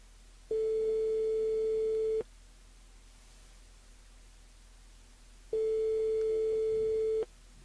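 A telephone line ringing during a live radio call-in show, two long steady electronic tones separated by a silent gap, clear and alone with no voices.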